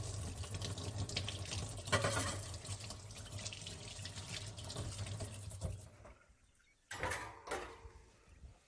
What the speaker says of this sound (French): je débarrasse mon fouet et je le lave directement